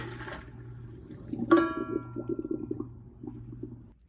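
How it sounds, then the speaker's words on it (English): Boiled jackfruit is drained from a pot: a sharp metallic clang of cookware rings out, followed by a run of close, uneven watery splashes and pouring that fade toward the end. "So now we're going to drain the jackfruit again."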